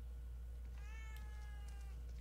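A cat meows in The Evil Within 2, one drawn-out, wavering meow that rises and bends over about a second, clear and close above a low steady game hum, with no talking.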